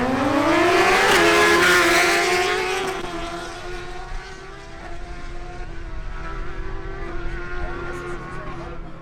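A Honda CBR1000RR and a Suzuki GSX-R1000 launch in a quarter-mile drag race in Barranquilla, engines screaming up through the gears as a loud rising whine, then fading into a steadier distant drone.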